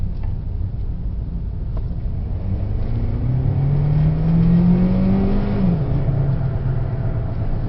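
A 2013 Hyundai Elantra's engine accelerates steadily, a rising drone climbing in pitch under a constant road rumble, then dropping suddenly as the gear changes, heard from inside the car.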